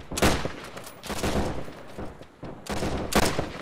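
Heavy battlefield gunfire with a machine gun in the mix: loud, dense volleys and bursts crackle almost nonstop, swelling and easing in waves, with no clear talk over them.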